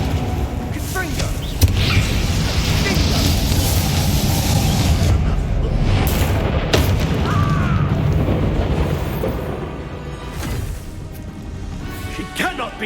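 A Confringo fire spell explodes during the final battle in Hogwarts Legacy on Xbox Series X, a loud boom with crackling blasts amid game music, while voices shout over the action.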